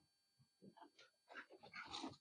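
Dogs whimpering and yelping in a room, several short, faint, high-pitched whines and grumbles that build into a louder burst of restless dog noise.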